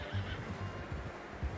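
A horse neighs in the video game Red Dead Redemption 2, a short, close whinny with a rough, breathy texture, heard alone without talk.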